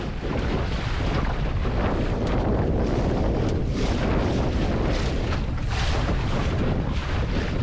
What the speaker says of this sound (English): Oh, there we go, a little bit of a gust.